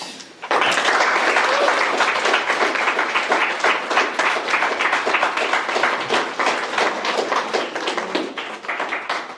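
Audience applause at a district spelling bee after an 18-round contest, a dense, steady wash of many hands clapping that starts abruptly and holds at full strength, close and loud, with no talking over it.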